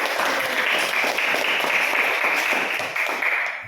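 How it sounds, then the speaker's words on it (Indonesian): A classroom of students claps for a presenting group, a dense, steady burst of applause close by that lasts a few seconds before tapering off. "kasih aplaus untuk kelompok 1"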